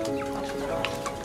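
Chickens clucking in a backyard garden after rain, a close, continuous chorus of overlapping clucks over a steady low background.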